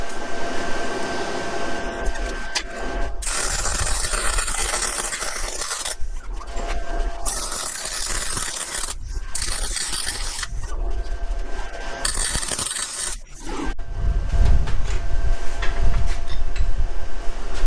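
Stick welding on 1-inch steel rod in a home shed workshop, a loud continuous crackling buzz broken by several short pauses between runs, with no talking.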